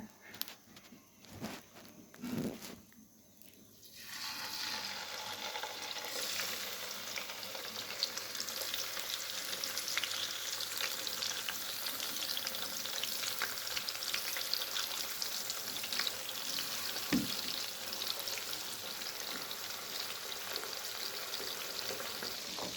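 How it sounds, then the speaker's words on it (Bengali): Turmeric-coated fish pieces fry in a hot kadai (wok), a steady crackling sizzle rising after a few seconds of quieter clatter and continuing loud and close throughout, with no talking. "এখন দিয়ে দেব ভাজার জন্য কড়াইতে।"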